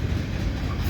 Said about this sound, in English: We got 3421 leading, an AC44 C6M rebuilt. And yep, this is M302